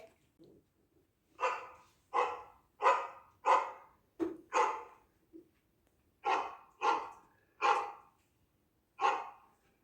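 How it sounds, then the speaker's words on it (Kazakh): A dog barks about ten times in a close, loud sequence of sharp barks, some in quick pairs and others spaced apart, with short silent gaps between them. "Ол ит дауысы."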